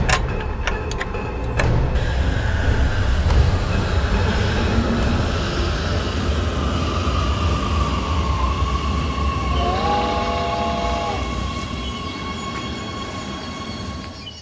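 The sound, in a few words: train arriving at station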